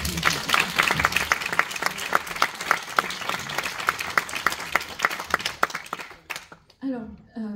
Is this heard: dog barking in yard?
no